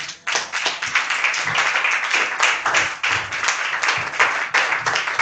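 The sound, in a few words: congregation clapping in praise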